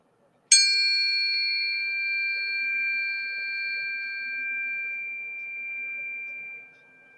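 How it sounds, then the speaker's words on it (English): Small chimes are struck once, ringing out loud and clear, then sustaining and slowly fading for several seconds with no talking. "why don't I do little chimes?"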